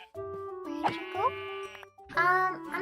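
Sheep in a video game bleat in a few distinct wavering calls, close and clear, separated by short pauses.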